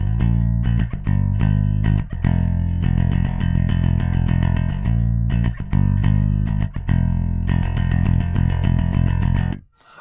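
Bass guitar with dual P pickups, both switched on, plays a loud, busy line of punchy plucked notes for about ten seconds, ending with a short pause.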